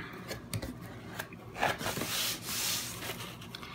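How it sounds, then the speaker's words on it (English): Scissors cutting packing tape on a box during an unboxing, a few close snips and rubbing scrapes with uneven rhythm, fairly quiet with no talk. "So all I did was cut the tape here with my scissors."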